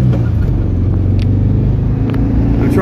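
A 1978 Volkswagen Beetle Convertible with a manual transmission drives along a road, its air-cooled engine a steady loud rumble mixed with heavy wind buffeting, with no pauses throughout.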